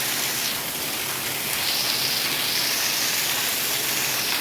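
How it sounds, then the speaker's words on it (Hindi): Rainwater pours from rooftops during a downpour in the hills, making a dense, continuous hiss of falling water at moderate loudness and close range. No speech. "लोगों की छतों से पानी टपकता है ना बहुत ज़ोर ज़ोर से"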